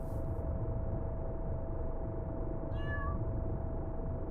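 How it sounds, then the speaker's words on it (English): A single short cat meow from the video game Weird Trip rises briefly over a steady, rumbling ambient drone. "And the cat with a classic meow."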